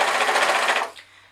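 Sewing machine stitching fleece fabric for a beanie hat, a short close burst of rapid rattling stitches that stops abruptly after about a second.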